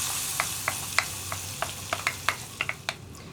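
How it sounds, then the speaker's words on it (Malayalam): Fried tempering is poured into a cabbage and lentil curry, giving a steady hiss of sizzling oil with a scattering of sharp crackles and pops, close and fairly quiet, with no voices. "അപ്പോൾ ഞാൻ നമ്മുടെ വറവ് കറിയിലേക്ക് ചേർക്കുകയാണ്."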